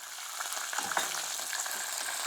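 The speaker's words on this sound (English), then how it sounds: "the seeds inside of the capers are popping a bit" Capers frying in a pan of oil, their seeds popping: a steady dense sizzle with scattered small crackles and pops, close up and with no talk.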